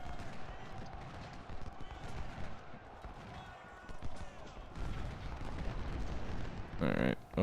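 Distant crackling musket volleys and booming artillery rumble through a Civil War battle in Ultimate General: Civil War, with a sharper burst near the end; a voice talks over the din.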